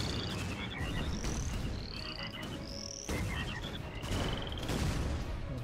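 Game frog croaking in the artillery game Shellshock Live, repeated croaks and chirpy calls over a dense, busy backdrop of game noise, with a sharp burst near the middle.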